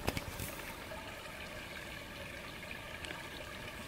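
Water in a Dutch wilderness landscape makes a continuous soft rushing trickle, steady and fairly faint, with a couple of small splashy ticks near the start and around the third second.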